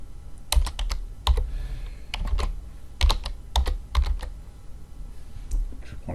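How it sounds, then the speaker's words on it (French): Keys clatter on a computer keyboard while cell coordinates are entered in Excel. The typing comes in short irregular bursts of clicks, close and distinct, with no talking. "je vais taper les coordonnées"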